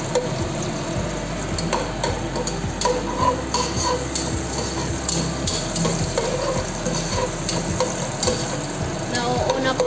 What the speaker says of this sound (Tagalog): Nauuna po yung onions kasi mas matagal na i-fry.